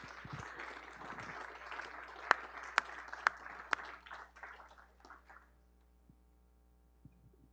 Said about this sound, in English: Christine Gribben, with wild applause, to the stage.